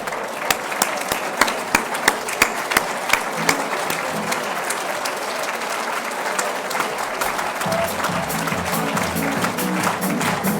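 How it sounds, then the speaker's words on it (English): Sustained, dense applause from a standing audience at a volunteers' awards ceremony, steady and loud for about ten seconds with a few sharper individual claps, and some voices murmuring beneath it near the end. "Let's have a huge round of applause"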